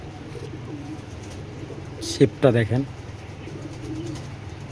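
Big-muscled foreign-breed pigeons give a short burst of throaty cooing midway, a few pulsing notes over steady room noise while someone talks.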